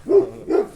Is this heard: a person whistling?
no